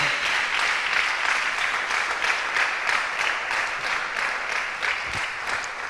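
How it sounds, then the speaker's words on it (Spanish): A church congregation applauds together in a steady, dense wash of clapping that holds at an even level from start to finish, with no voices rising above it. "Dele otro aplauso al Señor, hermano"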